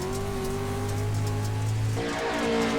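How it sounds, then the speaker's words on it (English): Pro 2 Lite off-road racing trucks roar around the dirt track at Wild West Motorsports Park, a steady loud engine drone with a sustained pitch that drops and shifts partway through as a truck passes close by. "These trucks are so much fun to drive."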